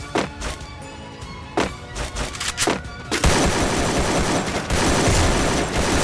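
Rapid AK rifle gunfire in the Free Fire battle royale game: several sharp separate shots, then a dense, loud, sustained burst of automatic fire with overlapping reports.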